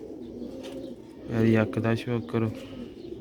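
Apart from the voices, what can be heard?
rooftop pigeons cooing, old Sialkot breed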